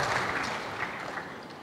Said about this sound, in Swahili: Tujipigie makofi mabingwa wa NBC Tournament